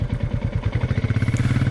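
A Royal Enfield Meteor 350 single-cylinder motorcycle engine idles up close, giving a steady, even low thump-thump pulse with a mechanical clatter on top.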